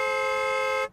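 A single short car horn toot, bright and steady, lasting under a second before cutting off abruptly.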